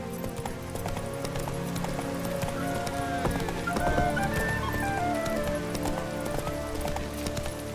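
Roach, a horse in The Witcher 3, trots with steady clip-clop hoofbeats and lets out a whinny over a busy game soundscape of music and ambience.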